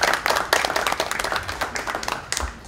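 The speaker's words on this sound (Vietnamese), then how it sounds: "Chúng tôi quý vị đứng dậy tham gia một tràng pháo tay." Audience at a fundraising banquet in Orange County clapping together, a lively round of dense, fairly close applause that carries on steadily and tapers slightly near the end.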